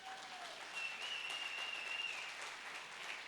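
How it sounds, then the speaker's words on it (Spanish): Church congregation at a family service applauding, a steady, fairly soft wash of many hands clapping at once, sustained without pause. "denle un aplauso al Señor por eso."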